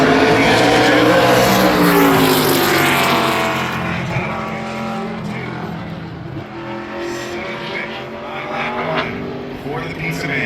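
ARCA Menards Series race car lapping Berlin Raceway in qualifying, a loud, close engine roar with shifting pitch that fades slightly as the car moves away, with a commentator talking over it.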